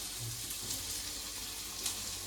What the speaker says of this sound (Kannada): ಇದು ಫಸ್ಟ್ ಸ್ವಲ್ಪ ಲೈಟಾಗಿ ಫ್ರೈ ಆಗಿ ಗೋಲ್ಡ್ ಕಲರ್ ಟರ್ನ್ ಆದಮೇಲೆ